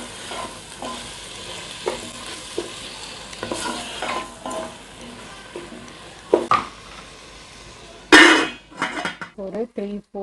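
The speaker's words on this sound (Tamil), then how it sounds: "இதோடையே பச்சை பட்டாணி இதையும் நல்லா மிக்ஸ் பண்ணிவிட்டு" Green peas being stirred into a frying pan mixture for paneer pulao, with repeated scraping strokes of a spoon against the pan over a steady sizzle, followed by louder clattering utensil knocks near the end.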